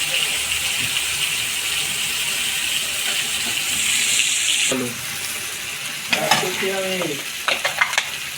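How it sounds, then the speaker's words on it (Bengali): Tomato paste sizzles in a hot pan while a spinach and potato curry cooks. A steady frying hiss gives way to scraping stirs, and a voice speaks briefly near the end. "টমেটো দেবো, টমেটোটা পেস্ট করে নিয়েছি।"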